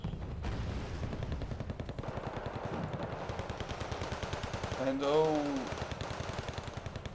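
Rapid machine-gun fire rattles steadily through a Wargame Red Dragon battle, a dense continuous burst with a brief louder swell near the end, while a commentator's voice runs over it.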